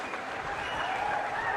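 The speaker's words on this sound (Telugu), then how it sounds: "గట్టిగా చప్పట్లు కొట్టి అభినందించండి." Steady audience applause fills a meeting hall at an official government review session, a dense wash of clapping that holds at an even level throughout, with no speech over it.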